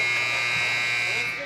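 A long, loud, steady buzzer sounds at the end of a quarter in a youth U16AA hockey game in an arena, a harsh continuous tone that holds throughout.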